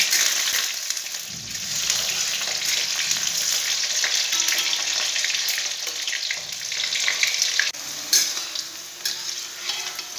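Steamed potatoes fry in a pan with a steady, loud sizzle and crackle, broken by occasional scraping stirs, all without any voices.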